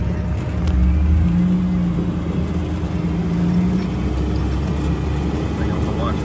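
A 1946 Willys CJ-2A engine idles and rumbles steadily in low gear while creeping through a creek, a continuous low drone that rises slightly mid-clip, with people talking over it.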